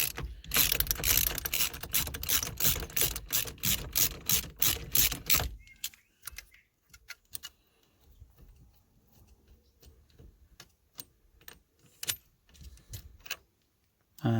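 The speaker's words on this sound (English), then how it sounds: "it's a 24mm socket, nice and easy" A ratchet with a 24mm socket undoes the steering wheel bolt on a Ford Fusion, first as a rapid, steady run of close metallic clicks, then as slower, sparser clicks with pauses between.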